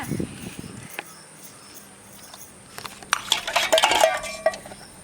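Dishes being washed by hand: metal pots and cutlery clink and clatter in sharp bursts, sparse at first and then a busier cluster of knocks near the end, with a voice speaking briefly at the start.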